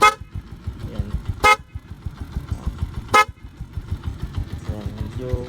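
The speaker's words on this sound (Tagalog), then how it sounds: "Pia horn pala yan, guys" A loud aftermarket Pia horn on a Honda TMX Alpha motorcycle blares in short, sharp honks, three distinct blasts over a low idling engine rumble, close by.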